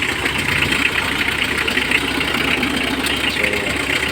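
Engine idling steadily right after a hard start, giving a continuous even rumble with a slight roughness, close by and with no clear speech.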